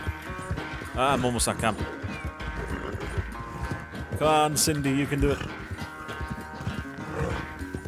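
A horse gallops in the video game Red Dead Redemption 2, its hooves a steady rhythmic clatter running under someone talking over most of the stretch, with a brief whinny-like burst partway through.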